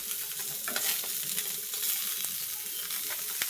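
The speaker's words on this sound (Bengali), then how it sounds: "মাছ ভাজা হচ্ছে," Fish fries in a pan with a continuous close sizzle and crackle, broken by light stirring and spatula scrapes throughout.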